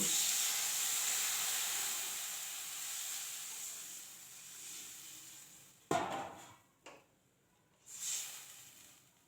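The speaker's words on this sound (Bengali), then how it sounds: "এবার দিয়ে দেবো পরিমাণ মতো জল।" Water poured over lightly browned fried potatoes hisses loudly in a hot pan, the steam fading over several seconds before a few sharp bursts of pan and utensil knocks.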